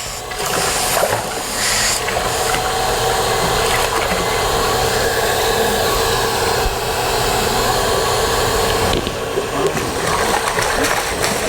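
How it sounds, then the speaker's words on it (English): A pool vacuum runs through a flex pipe set in the skimmer, giving a steady, loud rushing of suctioned water and air that holds for the whole stretch, with faint mechanical clicks. "Sean will turn the vacuum on and try to get me wet."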